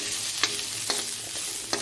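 Ingredients including ginger and garlic dry roast in a wok, making a constant dry rustling hiss broken by three light spatula scrapes.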